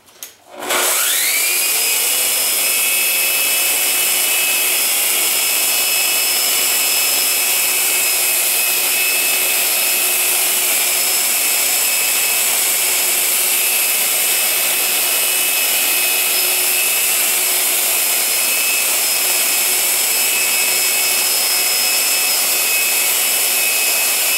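A powerful Festool Rotex RO 150 orbital sander whines steadily at high pitch with a vacuum extractor on high roaring beneath it, starting abruptly and running continuously and loudly.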